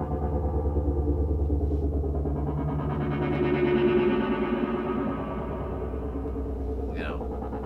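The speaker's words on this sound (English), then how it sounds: "That pulsing sound, this is an Arturia plugin from the CS80." Pulsing, warm synth pad from an Arturia CS-80 plugin evoking late-70s, early-80s sound, thick and throbbing with a steady low drone, swelling slightly midway, heard alone.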